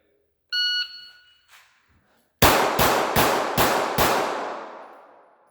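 A pistol drawn and fired five rapid, evenly spaced rounds at an outdoor range, loud sharp cracks with ringing tails, preceded by a short electronic start beep.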